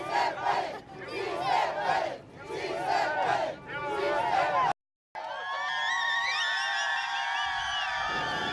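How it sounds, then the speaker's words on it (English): A large crowd of immigration demonstrators in downtown Los Angeles in 2006, chanting and roaring in loud rhythmic waves nearby, then after a brief cut a wailing siren rising over the ongoing crowd noise. "It looks like the crowd has turned and is headed our direction."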